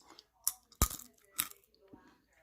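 Several sharp, crisp crunches of roasted pumpkin seeds being bitten and chewed close up, spaced irregularly with quiet gaps between.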